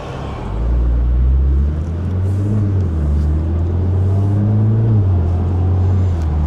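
A car drives around the Nürburgring circuit, its engine a loud, steady low rumble with gentle rises in pitch as it pulls along, heard close from inside with no talking.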